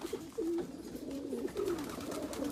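Racing pigeons coo inside a loft in Batenburg, soft low rolling coos repeating close by over a faint background murmur.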